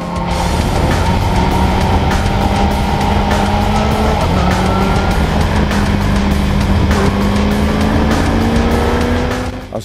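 A Kawasaki Ninja H2 motorcycle and a stock car accelerate hard on a race track, engines roaring loudly and climbing in pitch through repeated gear changes, with a brief tyre squeal among the sweeping passes.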